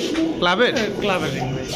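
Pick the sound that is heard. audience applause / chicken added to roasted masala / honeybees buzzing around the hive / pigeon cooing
pigeon cooing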